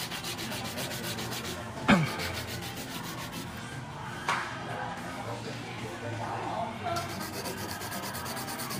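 A nail file rasps back and forth across an acrylic powder nail during a refill at a nail salon, producing a continuous close scratching under quiet background noise, with a couple of sharper taps.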